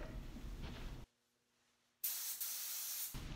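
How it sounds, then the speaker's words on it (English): A steady hiss of a paint spray gun cuts off for about a second, then resumes loudly and continuously, like the gun being triggered in bursts. "And now we're ready to spray."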